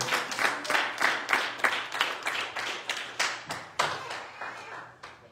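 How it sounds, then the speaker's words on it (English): A church congregation claps hands together during a Bishop Morrison sermon, about fourteen loud, evenly spaced claps in a steady rhythm that carry on alone for several seconds. "Will you clap your hand unto the Lord?"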